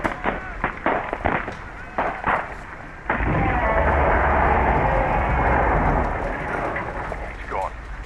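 Rapid gunfire in the Call of the Sea video game, a dense sustained burst of loud shots after a few earlier separate reports, with voices shouting over the din.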